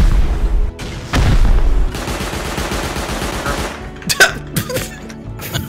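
Turret gunfire in the video game Rust during a raid on a vault base, loud bursts of rapid shots and sharp cracks near a garage, with a few heavy hits and scattered later reports.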